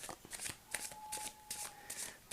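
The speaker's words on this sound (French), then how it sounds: "On va mélanger les cartes" A deck of I Ching oracle cards is shuffled close up, with a steady run of quick papery riffles and soft slaps throughout, and no one speaking.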